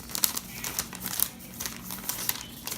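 A folded paper letter taken from a sticky package is unfolded, giving close, crisp crinkling and rustling in irregular bursts throughout, with no voices.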